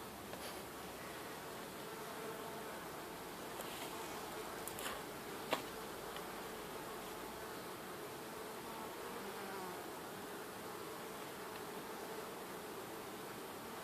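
Honey bees buzzing around an open barrel top bar hive, a soft, steady swarm drone that holds evenly throughout at a faint, slightly distant level, with no talking.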